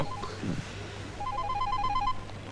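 A telephone rings indoors with a rapid electronic trilling burst repeated in quick pulses, moderately loud over a low background hum, after a brief vocal sound.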